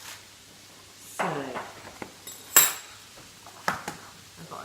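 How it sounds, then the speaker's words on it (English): Utensil clinks against a bowl while a free-range egg is beaten for mini quiches: a few scattered taps and scrapes, one sharper clack, with quiet gaps between and no voices. "I've got a nice free-range egg here, which I'm just whisking"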